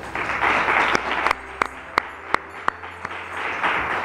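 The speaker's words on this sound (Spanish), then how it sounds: "para ellos pues quisiera pedir un fortísimo aplauso" Audience applause at a nativity scene and Christmas tree contest event, a dense, even wash of clapping with a few sharp, louder individual claps standing out through the middle, with no talk.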